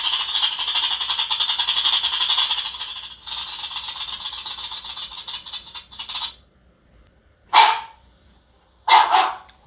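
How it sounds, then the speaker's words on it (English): Dog barking in rapid, rattling bursts, a long harsh stretch followed by two short separate barks, loud and close. "And of course the dog barking."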